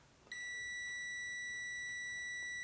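A multimeter continuity tester gives a steady high-pitched electronic beep that starts abruptly and holds continuously, clear and close, over a quiet background.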